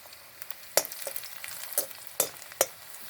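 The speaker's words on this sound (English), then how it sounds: "Let's let this onion get fried a bit." Onion and chopped garlic frying in a pan, a soft continuous sizzle punctuated by several sharp clinks and scrapes of a utensil against the pan, close with no speech.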